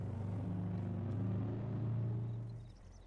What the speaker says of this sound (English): I'll jump back in the truck now.